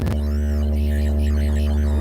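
A synthesizer patch gives a sustained growling, roar-like tone with a heavy low drone and a shifting, throbbing upper texture, loud and alone with no talking.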